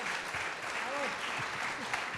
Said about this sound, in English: A big round of applause for the speakers, please, and to yourselves.